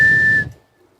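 Someone whistles a single sustained clear note, just after tasting Whistle Pig whiskey, over a low murmur that fades out, leaving near silence.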